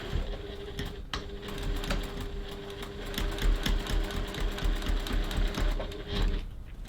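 A sewing machine runs steadily, stitching a 3 mm seam along the lower gusset of a crossbody bag at a 3.1 stitch length, close and continuous with a brief pause near the start and a stop at the end.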